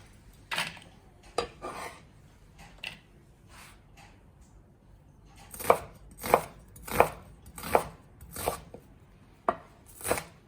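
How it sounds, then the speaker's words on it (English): Knife chopping an onion into small pieces on a board, sparse thuds at first, then a quick regular run of crisp close chops, no talking. "So I'm cutting my onion straight across, and then I'm rotating it and I'm chopping to get little pieces."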